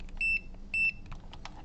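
A multimeter in continuity mode, probing an Acer E5-575G laptop board, gives two short, clear, high beeps close together in an otherwise quiet setting.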